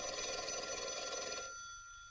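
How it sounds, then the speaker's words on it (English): An old-fashioned telephone bell rings in a continuous, fairly close trill and then fades out as the ring ends; no voices are heard. "Your phone's ringing."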